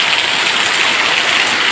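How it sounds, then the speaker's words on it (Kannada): Heavy rain pours down in a dense, steady hiss with no breaks, loud and close, and no voices are heard. "ಎಷ್ಟು ಜೋರು ಮಳೆ ಅಂದರೆ"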